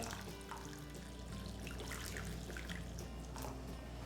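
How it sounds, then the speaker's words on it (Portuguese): Hot water trickles and splashes steadily into a pot of chopped potatoes, a continuous pouring sound at moderate level with no talking. "E eu vou cobrir essa batata com água quente."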